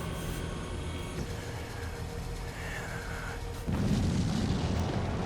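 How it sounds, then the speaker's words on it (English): Cannon fire in the Sakura Wars video game, a continuous heavy rumbling blast that swells louder near the end over a steady background of game music. "It's literally a cannon."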